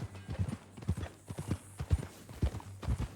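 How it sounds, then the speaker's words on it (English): A horse in Red Dead Redemption 2 clip-clops along at a walk, an even rhythm of hoofbeats on hard ground at moderate distance, with a soft snort or whinny mixed in. "That new horse?"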